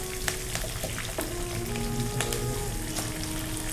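Onions frying in a pan for chicken kurma gravy, a dense continuous sizzle with sharp crackles and spits over a faint background hum, with no one speaking.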